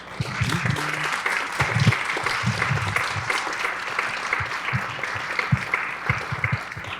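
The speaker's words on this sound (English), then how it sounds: "I hope everyone will join me in a round of applause for our amazing panelists and for VPIRG" A room applauds panelists at a legislative discussion on immigration and federal outreach, with steady clapping throughout and a few louder, closer claps standing out against the crowd.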